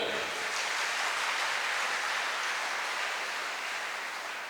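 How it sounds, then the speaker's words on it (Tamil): Steady, dense applause from an audience cheering two sisters, a broad continuous wash of clapping that holds loud for several seconds before easing slightly at the end. "சகோதரிகள், அவங்களுக்கு ஒரு பெரிய கைத்தட்டல்கள்"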